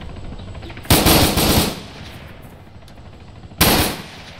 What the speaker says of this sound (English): It's AK fire coming in from the west.